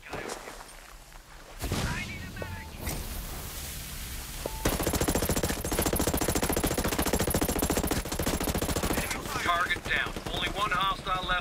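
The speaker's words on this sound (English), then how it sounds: "Hostiles are shooting." Rapid automatic gunfire in the tactical shooter Ghost Recon Breakpoint, dense bursts of shots rattling loudly for several seconds amid game effects, with voices speaking over the action.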